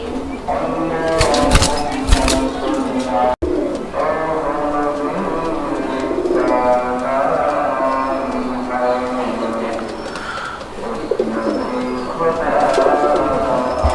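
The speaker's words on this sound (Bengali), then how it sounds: "এটা হচ্ছে একটা বোম্বাই কবুতর" Bombay pigeons coo steadily in low, throaty bursts throughout, with a person talking over them and a brief sharp click partway through.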